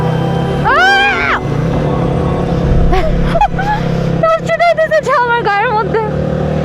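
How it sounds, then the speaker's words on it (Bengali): A vehicle engine labours and shifts gear on a muddy mountain road near Keokradong, rising and falling revs heard close, with people talking over it. "গিয়ার শিফট করতেছে"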